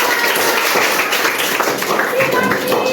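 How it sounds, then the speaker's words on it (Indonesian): Children in a classroom clap loudly and continuously after a song activity, with excited voices mixed through the clapping. "Oke, tepuk tangan buat kalian semua"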